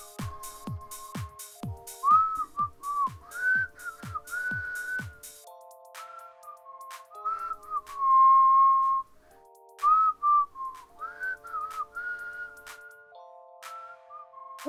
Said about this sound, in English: I don't whistle much anymore. Still got it